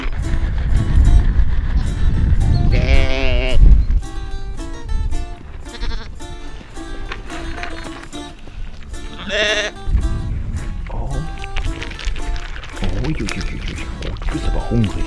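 Sheep at a wildlife park give a few wavering bleats over steady background noise, while people talk nearby throughout.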